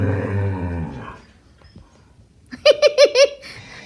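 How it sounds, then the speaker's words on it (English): Dogs growl, and then a burst of four sharp, loud barks comes in quick succession near the end. "Just listen to these dogs"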